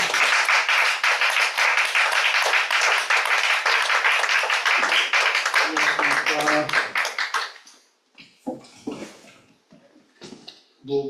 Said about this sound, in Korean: 우리 두 분 나오실 때 뜨겁게 박수를 환영하겠습니다